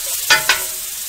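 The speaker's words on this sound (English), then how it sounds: "we chopped up shallots, so let's drop those in" Chopped shallots dropped into a hot pan with leftover bits stuck on the bottom, two quick bursts of sizzle as they land, then a low fading hiss.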